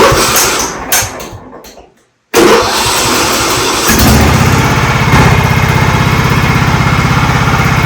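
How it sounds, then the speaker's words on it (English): A Kohler 17.5 hp engine on a 2007 John Deere L110 lawn mower cranks, cuts out briefly, then catches and runs at a steady, loud, even drone close to the microphone. "I'm going to start the motor, let it run for a second or two."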